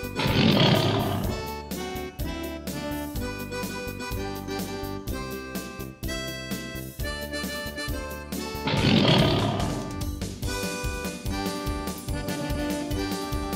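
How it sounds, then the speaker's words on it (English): A lion's roar sounds twice, loud and close, with a pause of several seconds between the roars, over busy music that plays throughout. "Lion."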